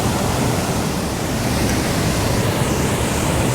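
A mountain creek waterfall spills into a pool below its upper part, making a loud, continuous, dense rush of falling water that holds steady throughout.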